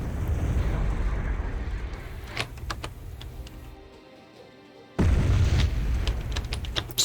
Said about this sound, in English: Here comes fire once again from that MAR-290.